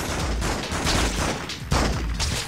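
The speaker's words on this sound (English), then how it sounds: "some thugs, they're like shooting at the police" Gunfire from thugs shooting at police in the 2004 Spider-Man 2 video game, a dense, continuous crackle of shots with sharper bursts, loud and close throughout.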